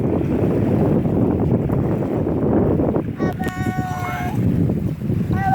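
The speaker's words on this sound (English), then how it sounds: "let's go ahead and take it for a drive. Is that what boats do? Drive?" A WL Toys Q353 amphibious drone boat's small motor whirs over heavy wind noise and splashing water, with a rising electronic whine partway through as the craft moves along.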